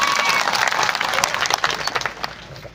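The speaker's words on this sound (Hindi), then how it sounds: "इसलिए एक बार जोरदार तालियां आप सबके लिए।" Crowd at a political rally in Rajasthan applauding loudly, a thick, continuous wash of clapping that rises and then tapers off toward the end.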